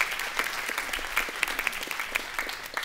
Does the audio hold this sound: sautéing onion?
no